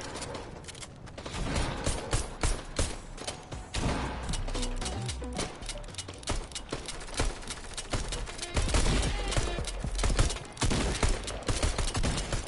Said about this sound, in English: Guys, I'm shooting people.